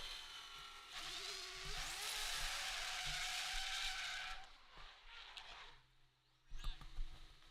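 A race car spins its wheels during a timed run, a loud sustained roar with screeching tire whine rising over several seconds, then fading as the car moves off, with a short burst of engine noise near the end.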